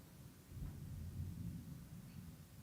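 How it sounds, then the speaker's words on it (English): Low, continuous thunder rumbles from a storm passing through South Florida, a steady distant roll with no voices. "We definitely have a storm coming through here in South Florida"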